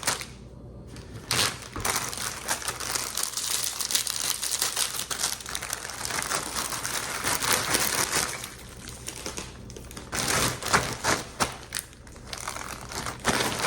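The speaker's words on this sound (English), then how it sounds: "I'm just going to crush up my graham crackers so that they're ready to go" Graham crackers crushed by hand inside a Ziploc bag give a steady, close run of crinkling plastic and crunching crumbs, continuous for the whole stretch with no talk.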